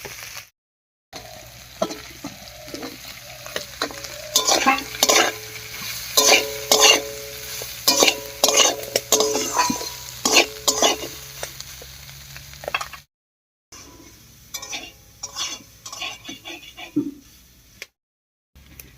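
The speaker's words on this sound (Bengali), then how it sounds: "মশলার সঙ্গে সোয়াবিনটাকে হালকা ভাজা করে নিয়েছি" Soybean chunks with salt, turmeric and spices are stirred and fried in a pan for a vegetarian pointed gourd dish. Rhythmic scraping strokes run over a steady sizzle, close and fairly loud, with two brief pauses.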